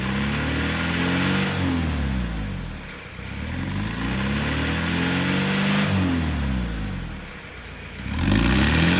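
A 1993 Vauxhall Carlton (Opel Omega) engine revs up repeatedly toward 3,000 rpm, its pitch rising and falling in loud swells with a brief dip before a final strong rev.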